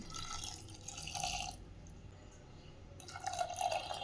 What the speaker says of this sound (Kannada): ಈಗ ಇದಕ್ಕೆ 2 ಕಪ್ನಷ್ಟು ನೀರನ್ನು ಹಾಕ್ಕೊಂಡ್ಬಿಡ್ತೀನಿ